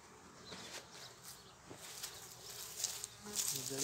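Honeybees buzz around a beehive as a second super is added beneath, a faint shifting drone with individual bees passing close and fading, alongside occasional handling knocks.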